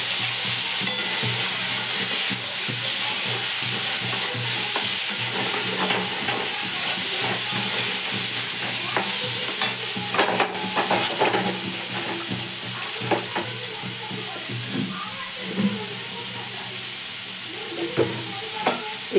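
Steamed dough balls sizzle and fry in a pan while being stirred, a steady loud hiss with scraping stir strokes running throughout and no talk.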